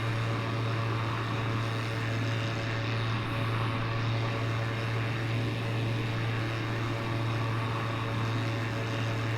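A steady, unbroken airplane engine drone from a flight simulator game runs throughout with no change in pitch. It is loud and continuous, and no voices are heard.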